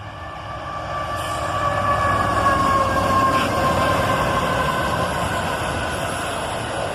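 Southbound auto rack freight train led by AT-44AH and AC-44CW locomotives rolls past close by with a loud, steady rumble of wagons, a sustained high wheel squeal and some rhythmic clacking.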